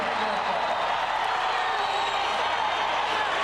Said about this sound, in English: The Iowa fans in the crowd going crazy